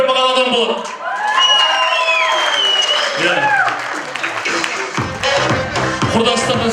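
Applause and crowd cheering at a jubilee birthday party celebrating a 50th anniversary, loud sustained clapping from a gathered audience with whoops, briefly swelling then continuing alongside voices.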